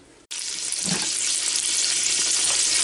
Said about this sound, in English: that's just begun to sizzle good